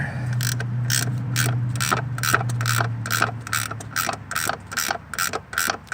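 A hand wrench ratchets steadily on a bolt holding the brake booster of a 2000–2005 Chevy Impala or Monte Carlo, with a rapid string of close, crisp clicks running throughout.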